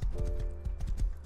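A horse's hooves clip-clop in a video game, a quick, even rhythm of close, distinct thuds over a faint background tone.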